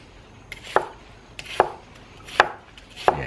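A chef's knife cuts thin slices of pepper on a cutting board: four crisp, evenly spaced thuds as the blade hits the board, close and distinct with no voices.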